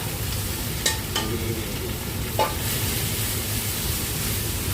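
Shrimp pad thai stir-frying in a pan, a steady close sizzle with a few faint clinks of a utensil against the pan.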